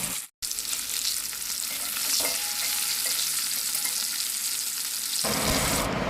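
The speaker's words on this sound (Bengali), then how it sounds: "তো এইভাবে উল্টে পাল্টে আমি মাছগুলো লাল লাল করে ভেজে নেব।" Katla fish pieces fry in hot oil in a wok, a steady close sizzle after a brief pause at the start, with a slight shift in tone near the end.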